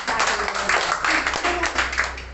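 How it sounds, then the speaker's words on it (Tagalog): A congregation at a church evangelization gathering claps loudly and continuously, a thick wash of hand claps with a voice faintly running underneath throughout. "Malakas na palakpak."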